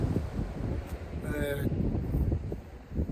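Gusty wind buffeting the microphone with low rumbling while fishing, rising and falling over a few seconds, with a brief faint voice mixed in.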